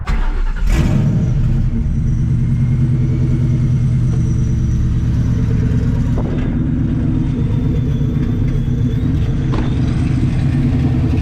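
Supercharged 1999-2004 Ford Mustang two-valve V8 with dump exhaust, loud and close, starting with a sharp burst then settling into a steady rough idle with a lumpy, uneven miss.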